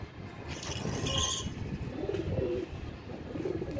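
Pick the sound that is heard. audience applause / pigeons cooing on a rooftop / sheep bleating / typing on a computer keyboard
pigeons cooing on a rooftop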